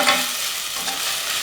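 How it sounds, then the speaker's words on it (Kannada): Ginger garlic paste frying with softened tomato in a pan, a steady bright sizzle with stirring scrapes, close and fairly loud, no voices. "ಇದು ಸ್ವಲ್ಪ ಹಸಿ ವಾಸನೆ ಹೋಗೋವರೆಗೂ ಹುರ್ಕೋಬೇಕು"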